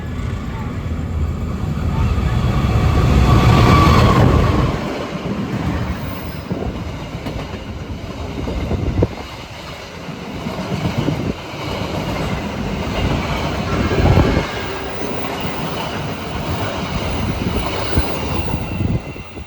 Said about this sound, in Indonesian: barusan cek kereta api Belambangan Express berangkat dari stasiun Leces